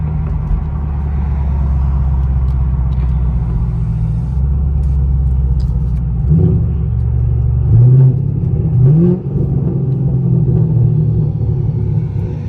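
A catless, straight-piped 6.2L V8 Camaro SS heard from inside the car, with a loud, steady low exhaust rumble that swells and burbles through a downshift about two-thirds of the way through, with no talking.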